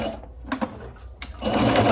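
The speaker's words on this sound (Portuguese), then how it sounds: "passo uma costura reta, novamente esticando o elástico" A sewing machine runs a straight seam through fabric with elastic being stretched, short close mechanical stitching bursts that start and stop, then settle into a continuous whirring run, with no talking.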